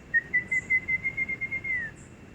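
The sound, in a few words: man whistling an imitation of a black-hooded antshrike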